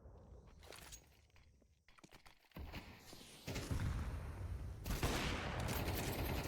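Gunfire in CS2 rings out in a tense round, with scattered shots and footsteps first, then heavy rapid bursts of rifle fire and booms that grow louder and denser toward the end.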